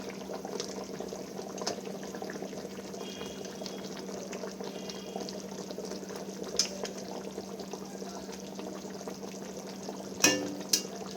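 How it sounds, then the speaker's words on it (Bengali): Fish curry gravy with fried bhola fish simmers in a pan, a soft steady bubbling hiss that stays low and even throughout, with a couple of brief clinks near the end. "ঝোলটা ফুটে গেছে এতে আমি ভেজে রাখা মাছগুলো দিয়ে দিয়েছি"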